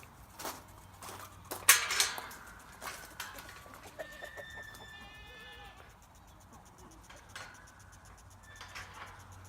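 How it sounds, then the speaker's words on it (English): Chickens cluck and squawk nearby in uneven bursts, with a louder squawk early on and quieter clucking after. "Lots of chickens."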